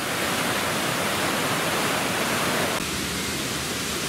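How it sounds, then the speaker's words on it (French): Spring water rushes out of the ground at Fontaine de Vaucluse where an underground river surfaces, a dense, steady roar of flowing water close by with no other sound over it. "la course d'un fleuve souterrain qui débouche en surface"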